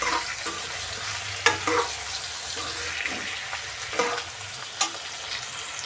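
Eggplant pieces with salt cook in a pan for an eggplant curry, a steady close sizzle with occasional stirring scrapes and taps, and no voice.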